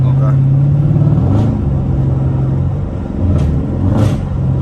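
An AWD Chrysler 300 Hemi V8 rumbles and revs loudly from inside the car, with deep engine drone rising and dipping over a few seconds while people talk over it.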